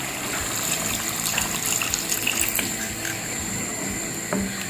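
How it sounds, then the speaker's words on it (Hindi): Water poured into a pot of chicken nihari, a steady gushing, splashing flow heard up close and fairly loud for the whole stretch, with no talking. "अभी हम इसमें डालेंगे पानी।"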